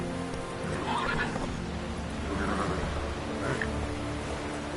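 Roach the horse whinnies and gallops in The Witcher 3, several neighs rising over a continuous rumble of hoofbeats, close and fairly loud with no talk.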